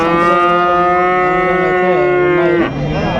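Calves at the Punganur cattle market give a loud, close, drawn-out moo lasting nearly three seconds, followed by the start of another call.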